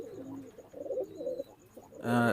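High-flying pigeons kept in a loft, a set breeding pair with young, give a few soft, low cooing calls close by, ending in a brief louder burst of rustling noise.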